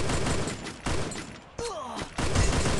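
Rapid bursts of gunfire crackle through a battle royale video game firefight, arriving in several dense clusters separated by short gaps, with one brief pause carrying a ringing, sweeping tone.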